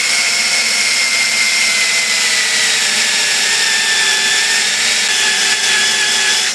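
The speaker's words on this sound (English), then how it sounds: "give it a little broader sanding so it blends everything nicely" A power sander whirs loudly and continuously against a large wooden bowl, a bright high-pitched grinding drone with a slight pitch drift as pressure changes.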